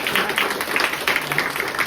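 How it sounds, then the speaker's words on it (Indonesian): An audience applauds in a dense, steady round of clapping at a community outreach event, brief and fairly loud. "Kita tepuk tangan untuk adik-adik, Bu ya, biar semangat."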